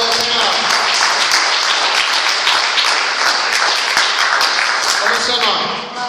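Church congregation applauding together, a dense sustained wash of clapping at close range with voices mixed in, holding steady before tapering slightly at the end.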